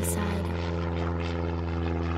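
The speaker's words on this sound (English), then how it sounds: "Peppa's aeroplane landed on the snow and ice." A cartoon aeroplane touching down on snow and ice, its steady propeller engine drone holding loud and close, with a faint tonal hum beneath, alone without talk.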